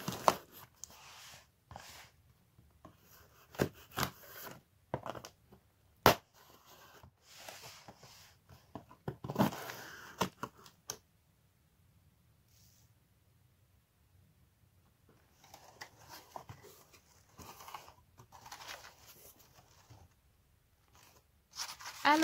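Parcel of manga volumes being unpacked: repeated bursts of rustling, crinkling and tearing packaging, close and moderately loud, with a quieter pause midway before the handling resumes.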